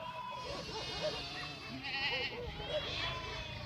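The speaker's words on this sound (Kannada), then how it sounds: "ಒಂದ್ರಿಂದ ಒಂದು ನೋಡ್ರಿ ಕುರಿ ಹಿಂಡು ಹೆಂಗೆ ಹೊಂಟಾವ ಅಂತೇಳಿ" A moving flock of sheep bleats in several overlapping wavering calls, quiet and somewhat distant, against a soft outdoor background.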